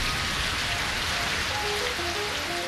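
Steady cartoon rain pours down as a gentle spring shower, a dense even patter of drops hissing across the whole stretch with no voices.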